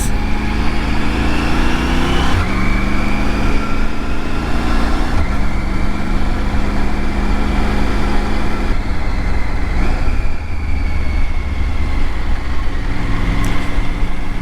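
Loud, close engine drone pulling through a first-gear corner and an immediate left turn on neighbourhood roads, its pitch rising and dropping with several gear changes under steady wind and road rumble.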